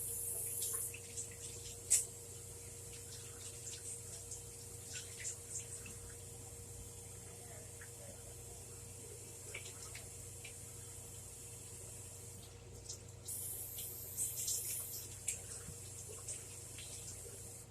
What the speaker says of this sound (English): I gotta wash my hands, got it all over me